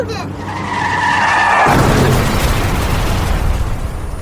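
A car in a child-safety advertisement screeches into a long tire skid, then slams into a loud crash with a burst of impact noise and debris rumbling away, heard up close and very loud.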